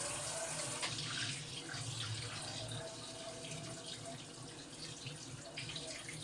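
Tap water runs steadily while hair is being shampooed, a continuous close splashing stream with a bathroom sink sound, no talk over it.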